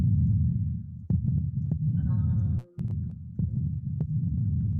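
A steady, deep heartbeat throbs through the VR experience Symphony of Noise, with a brief brighter swell and a short dropout partway through.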